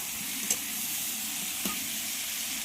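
Pieces of pointed gourd cut into long strips go into a fish curry cooking in a pan, giving a steady, fairly loud sizzle and hiss with two brief clatters of stirring.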